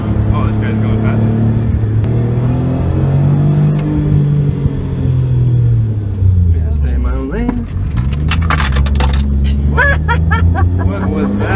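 A fast car drives past with a deep engine rumble that swells and falls as it goes by. People talk and laugh over it throughout.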